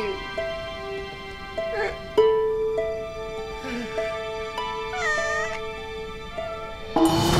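A cat meows repeatedly in drawn-out, rising and falling cries, close and fairly loud, spread across the whole stretch with a few short gaps between calls.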